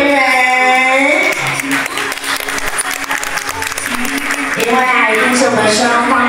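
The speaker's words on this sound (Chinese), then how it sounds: "掌声欢迎双方主婚人" Wedding guests applaud as the couple's parents are called onto the stage, loud continuous clapping mixed with music and an MC's voice over it, swelling again near the end.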